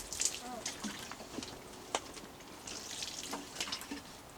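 Water trickles and splashes softly from a watering can onto pea seedlings sown indoors in toilet roll tubes, faint and uneven with light drips.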